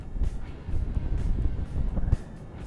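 Wind rushing across the microphone while cycling on a long road stage, a steady low buffeting roar with gusty surges throughout.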